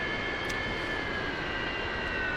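A JAS-39 Gripen jet engine on landing approach in a flight simulator game hums with a steady whining roar and high tonal whistle, constant and moderately loud, with no talking.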